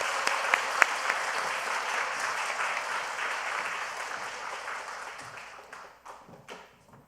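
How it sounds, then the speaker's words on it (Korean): A church congregation claps in sustained applause during a new-members graduation and baptism service, full and steady at first, then thinning and fading out to a few last claps. "박수로 격려하겠습니다."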